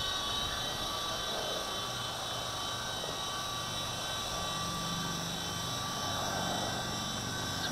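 A V913 RC helicopter hovers in a night breeze, its small electric motor and rotor giving a steady, fairly loud whine and whir with a constant tone and no talking.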